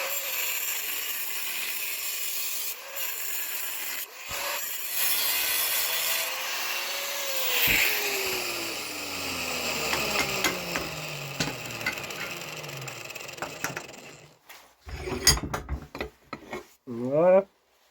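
Hand sawing through a metal exhaust pipe on a camper van, a close rasping back-and-forth scrape with uneven strokes, followed near the end by a few sharp metallic clinks and squeaks.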